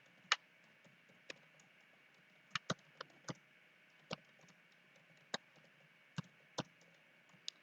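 Keys tapped on a computer keyboard while entering a Python factorial program: sparse, irregular clicks, a handful of sharp taps spaced across several seconds, fairly quiet and alone, with no talking.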